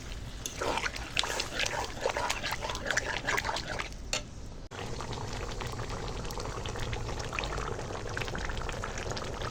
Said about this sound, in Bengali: এখন একটু জল দিয়ে দেবো কষানো হয়ে গেছে সামান্য জল দেবো